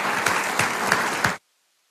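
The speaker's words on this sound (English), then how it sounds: "who deserves a round of applause for everything that he does each and every day" Applause from a crowd at a township committee meeting, dense and steady with a few louder claps standing out, then cutting off abruptly.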